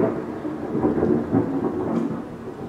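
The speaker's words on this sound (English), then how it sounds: "By the way, you might hear thunder in the background, but it's for the aesthetic." Thunder rolls as a steady, heavy low rumble throughout, loud and continuous with no voices over it.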